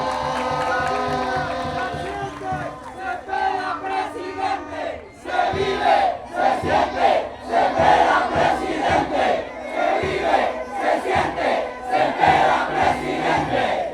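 A large crowd at an outdoor political rally cheers and chants in a steady, swelling roar that lasts throughout. Claps and shouts come and go in the distance.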